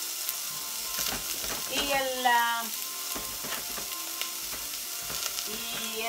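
Ingredients brown in a pan for mushroom soup, making a soft, steady sizzle with stirring scrapes and a few brief rising tonal sweeps mixed in.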